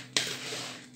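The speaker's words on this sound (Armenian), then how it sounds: "Խառնում ենք։" Lentils are stirred in a pot, with one sharp metallic scrape of a utensil against the pot at the start followed by a soft bubbling, simmering texture that fades toward the end, heard alone and close.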